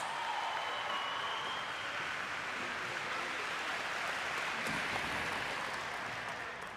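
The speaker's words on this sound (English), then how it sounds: "Let's give them a big round of applause." Sustained crowd applause for a basketball state championship team at a celebration event, a steady wash of clapping and noise from a large gathering with no break.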